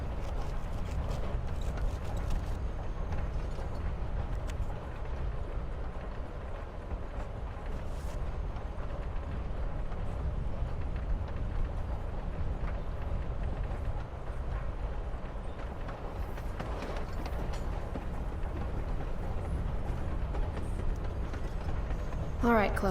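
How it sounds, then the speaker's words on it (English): Interior ambience of a moving train in Life Is Strange: Before the Storm, a continuous low rumble with faint rattling and clicks, steady throughout. "We're on a freaking train with Rachel freaking Amber."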